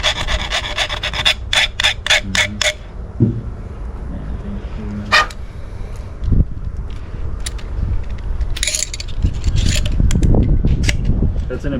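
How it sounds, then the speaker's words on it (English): A metal file rasps against tubing to clean a burr during a lowrider hydraulics install on a 1968 Impala fastback, giving several loud, quick scraping strokes in bursts with pauses between them. "Hit it with the file just a little bit."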